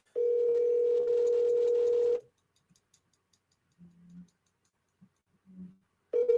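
A telephone dial tone sounds steadily for about two seconds while a call is being placed, then cuts off, leaving near silence with a few faint clicks and short tones before the tone returns at the end.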